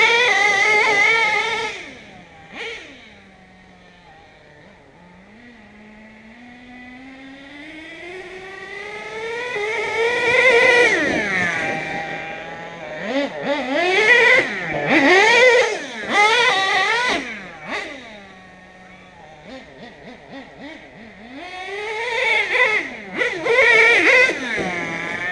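Traxxas Savage nitro RC truck at full throttle, its small engine whining and rising in pitch as it revs hard, easing off and surging again in repeated bursts, loud and close.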